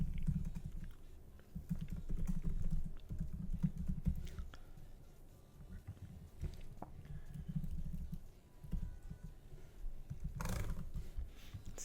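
Typing a password on a computer keyboard: a steady run of soft, close key taps with brief pauses, going on alone and fairly quiet.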